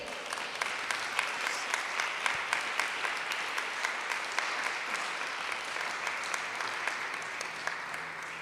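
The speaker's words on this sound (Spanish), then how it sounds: "Un aplauso al Rey." Sustained applause from a congregation honoring the King during a Spanish-language church service, steady dense clapping throughout with no speech over it.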